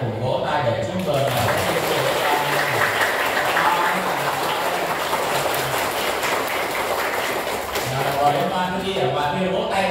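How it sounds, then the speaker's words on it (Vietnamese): Congregation at a Mid-Autumn Festival mass in a Vietnamese parish church breaks into sustained, dense applause that fills the room for the whole stretch, with faint voices mixed in. "ta cùng vỗ tay để chúc mừng."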